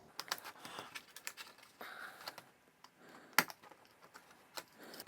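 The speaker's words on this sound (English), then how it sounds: "I'm just pushing the blade through those and they're breaking away really easily" A craft knife blade pushes small plastic model parts for a slot car pit lane garage out of their sprue, giving a scattered run of quiet, sharp clicks and snaps at irregular intervals, close and alone.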